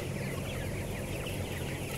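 Many chickens cluck and chatter inside a closed-house poultry barn, a dense, continuous flock murmur over the steady roar of blower fans, with no voices.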